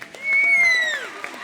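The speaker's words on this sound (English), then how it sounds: "How about a round of applause for our little duet in there" Applause from a middle school concert audience for a student duet, a brief burst of clapping with a long rising-and-falling cheer carrying above it.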